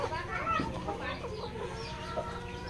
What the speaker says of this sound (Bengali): এটা হচ্ছে মোরগ এটা হচ্ছে মোরগ